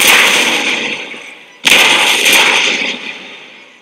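Two loud, close volleys of massed musket fire crack out in a Napoleonic battle video game set at Austerlitz, 1805, each a dense crackling burst that rolls and fades over about a second and a half.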